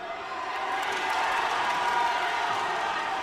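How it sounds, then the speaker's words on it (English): Fight crowd at an IFC event in Cheltenham swelling into cheers, a continuous roar that builds gradually and stays loud, with commentary voices mixed in. "every time Felipe does anything, his crowd just erupts"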